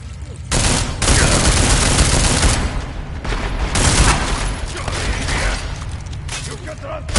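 Rapid gunfire rattles through a firefight in Deus Ex: Mankind Divided, loud and close, with sustained bursts and brief gaps, while voices shout over the shooting.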